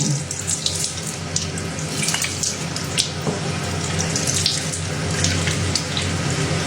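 Bathroom tap water runs steadily into a sink as a face is wetted, a constant broadband splashing gush with small clinks and drips scattered through it.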